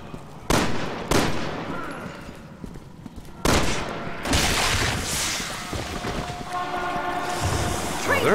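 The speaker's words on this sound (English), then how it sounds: "Oh, there is a train coming." An approaching train in the video game Resident Evil 6, heavy rumbling and clanking that builds to a loud, sustained roar with a horn-like tone, mixed with sharp gunshot-like bangs and game effects.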